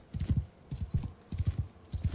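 A horse gallops under a mounted rider in the Mount and Blade 2 Bannerlord video game, clip-clop hoofbeats in quick groups of three or four, close and steady, separated by short gaps.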